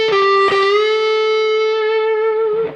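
An overdriven electric guitar plays a closing phrase, a couple of picked notes settling into one long sustained, singing note that tails off.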